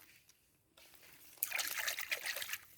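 Clams washed in stream water, heard as a soft trickle that breaks into a louder splashing, sloshing burst near the end, close by and fairly faint overall, with no talking.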